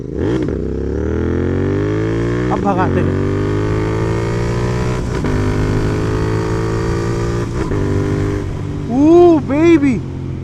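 Royal Enfield GT 650 motorcycle with a Red Rooster exhaust and performance air filter at full throttle, revs climbing repeatedly through several upshifts with sharp pops near the end, loud and close.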